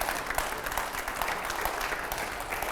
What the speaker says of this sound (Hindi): जोरदार तालियां हो पहले